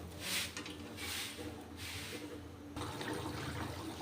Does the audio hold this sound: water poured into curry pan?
yes